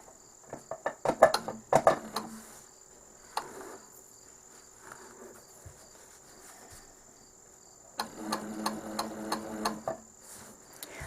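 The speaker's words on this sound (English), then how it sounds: "when I stitch with a ruler against the foot of my machine" A Handi Quilter sewing machine stitching a quilted placemat: short bursts of rapid, rhythmic needle clatter, close and moderately loud, separated by quiet pauses with a faint steady whine.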